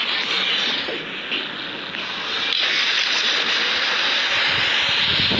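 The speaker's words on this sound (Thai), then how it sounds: "นี่คือยานบินที่ผมเคยสร้างมา" Engine of a player-built flying craft in a video game, a loud steady roaring drone with a broad airy rush that holds without pause, no speech over it.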